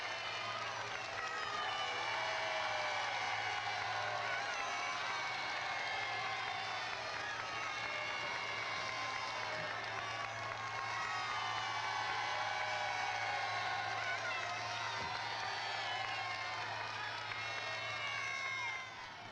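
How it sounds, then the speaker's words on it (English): Crowds waiting outside Claridge's in London for King Khaled's arrival on his 1981 state visit: a steady, continuous outdoor murmur of many voices with scattered shouts and some clapping, over a low constant hum. "The warmth of feeling was also expressed by the crowds who waited for His Majesty King Khaled's arrival"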